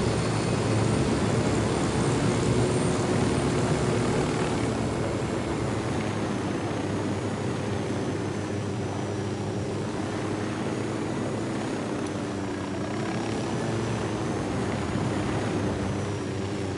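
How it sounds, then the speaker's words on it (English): A helicopter in the video game Ghost Recon Wildlands drones steadily with a continuous rotor and engine rumble, loud and unbroken throughout. "Need that chopper."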